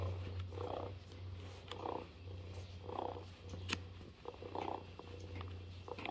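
A lifelike toy cat purrs quietly and close in a steady rhythm, each rumbling breath swelling and fading about once a second over a low electrical hum.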